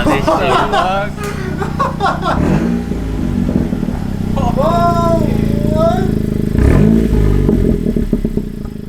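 Honda Civic Si engine fitted with a Yonaka Motorsports exhaust revs loudly and close, its throttle blips rising and falling, while several people talk and laugh over it.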